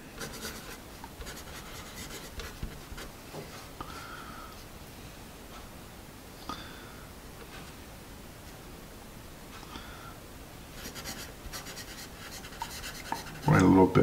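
Store-brand pencil from Meijer scratching steadily across paper in close, quiet strokes, with a soft continuous rasp and brief pauses, ending in a louder rub near the close.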